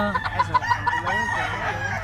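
A rooster at a Cebu fowl market crows once nearby, a rising, wavering call with a few clucks around it.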